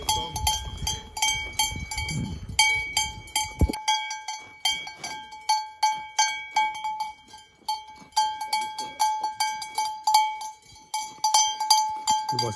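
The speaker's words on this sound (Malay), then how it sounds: "Kalau tanya ni bunyi ni bunyi loceng kat tengkok bang" Cowbells on grazing cows' necks clank and jingle repeatedly in an irregular rhythm near Lago di Dobbiaco in the Dolomites, with low rumbling noise at first, then clear metallic clanks ringing on their own.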